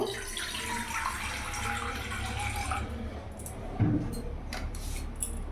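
Water pours from a tap or jug into a cooking pot for boiling soybeans, a continuous splashing stream that stops partway, followed by a few clinks and faint kitchen sounds.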